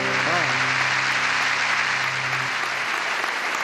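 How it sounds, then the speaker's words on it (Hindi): A studio audience on a Pakistani talk show applauds loudly and continuously, with a brief sung or played tone at the start beneath the dense clapping. "तालियां तो बजा दो इस बात पे यार,"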